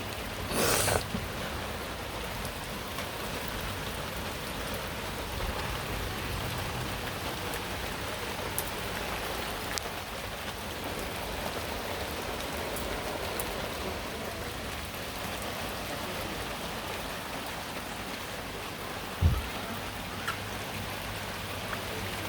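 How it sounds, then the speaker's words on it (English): Heavy thunderstorm rain falls in a steady, dense hiss across the whole stretch, a constant wash of drops on surfaces with one brief louder knock near the end and no voices. "It was actively getting darker, the rain was getting heavier."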